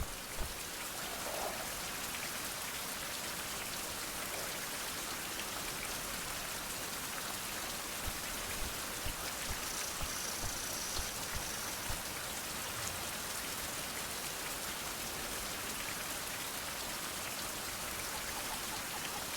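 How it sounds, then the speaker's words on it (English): Steady rain falls in the survival video game Survival: Fountain of Youth, a continuous even patter and hiss lasting the whole stretch with no talking over it. "while it's raining."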